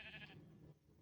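Sheep bleating in a Survival Minecraft 1.14.2 world, one short bleat within a single second.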